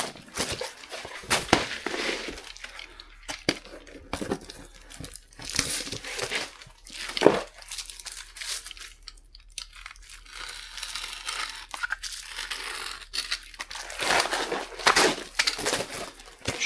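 Ice and water shield roofing membrane is cut and handled, giving crinkling, tearing and crackling bursts of varying loudness with a few quieter pauses between.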